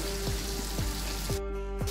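Pomfret fillets fry in hot oil in a pan, a loud, continuous sizzle and crackle close by, with soft periodic ticks and pops as the fish is moved and turned.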